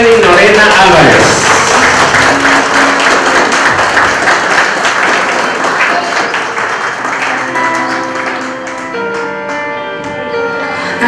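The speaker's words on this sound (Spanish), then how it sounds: "Y recibimos con el aplauso que se merece a nuestra quinceañera, acompañado de su chambelán, Jorlin Álvarez" Applause rises at a quinceañera celebration as the birthday girl enters with her chambelán; the clapping starts loud and then fades under sustained bell-like music and an announcer's voice.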